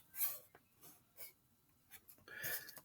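Pencil scratching across paper while sketching a crowd behind a jousting knight, with short strokes coming in several bursts and a busier, louder flurry near the end, close up and alone.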